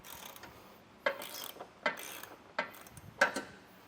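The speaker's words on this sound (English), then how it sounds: "we're going to go ahead and take off the bumper support, and we're going to use a 17mm socket" A ratchet fitted with a 17mm socket works on the bumper support bolts of a 2016 Mazda, giving four sharp, separate clicking bursts spaced about a second apart in a quiet space.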